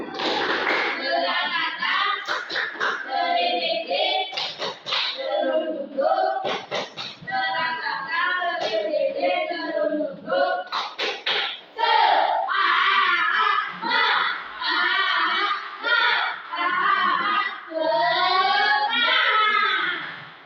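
Children's voices chant loudly in unison, a rhythmic clapping chant with sharp hand claps punctuating the continuous group vocals throughout, energetic and close, in a classroom session in Merauke.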